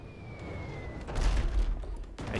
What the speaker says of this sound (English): Fire another salvo.